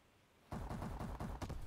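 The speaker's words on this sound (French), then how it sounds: "Ça y est, il a tiré." Rapid automatic gunfire in a video game, a burst of roughly seven evenly spaced shots starting after a brief quiet moment, punchy and fairly close with no talking.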